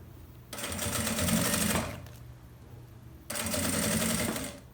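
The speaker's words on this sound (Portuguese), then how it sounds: "E aí, vem costurando. É só pregar o vivo agora aqui" A sewing machine runs in two bursts, stitching piping around the edge of fabric for a shampoo-holder toiletry bag, with a steady close whirring hum and a brief pause between runs.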